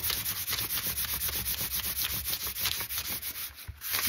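A collagraph printing plate is polished by hand in a steady back-and-forth rubbing rhythm, a close, soft, sanding-like scrape repeating evenly and heard alone.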